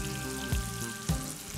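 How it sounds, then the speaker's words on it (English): Mushrooms sizzle in butter in a pan, a steady crackling fry close up with a couple of louder pops and no speech. "That sizzle sound."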